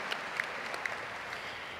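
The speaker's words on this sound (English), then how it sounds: "And now, you can applause, that's fine." Steady applause from a large crowd at the 2023 Keller High School graduation ceremony, an even wash of clapping heard at a distance, with a few sharper claps and no speech.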